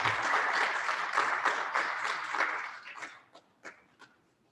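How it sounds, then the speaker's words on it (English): An audience at an end-of-year celebration applauds a graduating student, a full burst of clapping that thins to a few scattered last claps before falling silent. "So please give a round of applause for Andrea"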